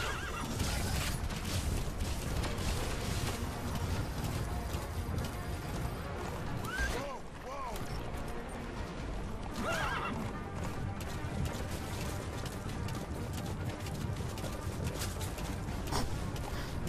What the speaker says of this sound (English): Look at Kaz, he's just getting bounced constantly on the horse